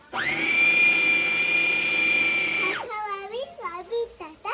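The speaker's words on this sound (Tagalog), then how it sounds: "Ayan, binablend na ng Mami ang patatas ni Bobby." A kitchen blender whirs loudly and steadily while pureeing potatoes for mashed potato, then cuts off and a voice chatters afterward.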